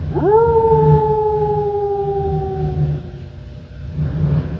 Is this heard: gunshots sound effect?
no